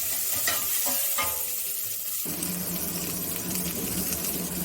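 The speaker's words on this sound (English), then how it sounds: "Add half of the curry patta that you had kept," Curry leaves frying in hot oil in a pot for a one-pot spinach and brinjal gravy, with a steady broadband sizzle, a few stirring clinks early on, then an even, continuous hiss close up.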